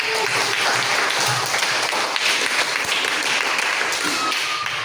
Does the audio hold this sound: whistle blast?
no